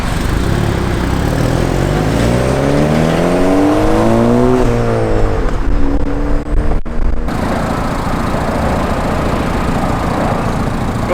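A Ford Fiesta ST with a downpipe and E30 tune revs up and falls back, its engine pitch climbing and dropping in sweeps. Sharp exhaust pops crackle near the end over a loud, close engine.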